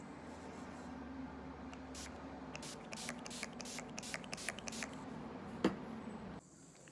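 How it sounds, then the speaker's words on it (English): A rapid series of short spray bursts from an Urban Decay All Nighter makeup setting spray bottle, about a dozen puffs close by, followed by a small click. "I am going to set it with the Urban Decay All Nighter Pollution Protection Spray."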